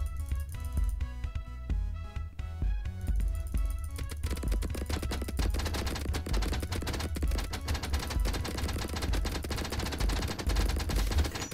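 Rapid automatic gunfire from towers in the video game Idle Tower Defence, a dense continuous stream of shots that thickens into a relentless barrage, played loud with no talk.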